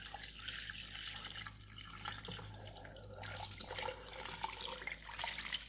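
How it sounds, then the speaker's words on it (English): Liquid pours into a soup pot for fifteen-bean soup, a close, continuous splashing and trickling with small drips and gurgles, no voices. "Let's see if I can pour this in here without making a complete gigantic mess."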